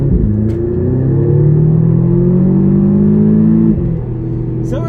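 A 2012 Audi TTS with a four-cylinder engine accelerates hard in sport mode, heard from inside the car. A loud rising engine drone climbs steadily, then drops sharply with a gear change near the end.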